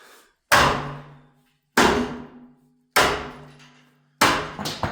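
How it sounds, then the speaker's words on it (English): Four loud, evenly spaced hammer blows strike inside a house under renovation, each a sharp impact with a ringing, rattling decay through the shaky floor, with near silence between strikes. "Because this floor is a little shaky when you're hammering like that."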